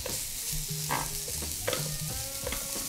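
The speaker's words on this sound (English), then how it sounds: "I'm going to transfer it in here, and we're going to make the little stir fry" Vegetables are stir-fried in the deep dish of a CalmDo multifunction electric grill, with a close sizzle and repeated clinks and scrapes from the stirring utensil against the pan.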